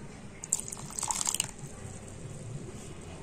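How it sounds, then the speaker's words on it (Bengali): A little water trickles into a washed yogurt bowl in a home kitchen, a brief faint splash and drip that fades within a second or two, with no talking. "টক দইয়ের বাটিটা ধুয়ে একটুখানি আমি জল দিয়ে দিচ্ছি"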